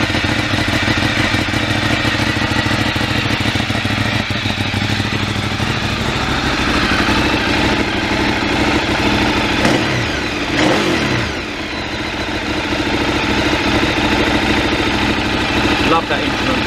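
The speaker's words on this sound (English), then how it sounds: "Definitely hear how much more cleanly and crisply an 848 Evo spins up from" A Ducati 848 Evo motorcycle engine runs loudly and steadily close by, with a throaty idle and brief rises as it revs, continuous throughout.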